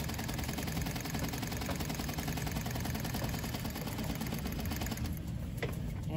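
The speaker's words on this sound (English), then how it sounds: "I'm going to just go in and stitch my number three stitch at 1/4 inch." A sewing machine stitches a rolled hem on muslin using a number three stitch at a quarter inch, running as a steady, fast, close mechanical whir for several seconds, then slowing near the end.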